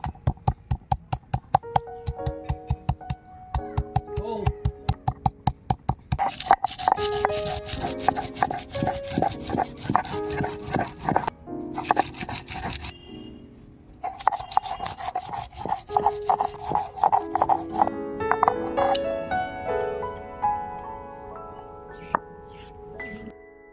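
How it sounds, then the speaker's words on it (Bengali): Ginger and garlic are ground by hand on a stone, giving rapid, rhythmic rasping strokes that start as sharp separate scrapes and blur into continuous rubbing, with brief pauses between bursts. "এবারে আদা রসুনটা বেটে নেব।"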